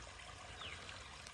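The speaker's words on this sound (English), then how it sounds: "Water's cascading down over the rocks." Mountain stream water cascading over rocks beside a hiking trail, a steady broadband rushing wash that holds constant throughout, close and continuous with no voices.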